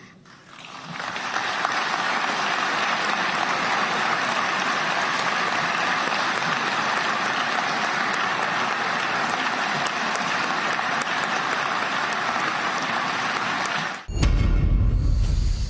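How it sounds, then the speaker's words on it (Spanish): Long, steady applause from a large audience fills the clip at even loudness for about fourteen seconds, then cuts off abruptly into a louder burst of unrelated sound at the end. "Largo aplauso"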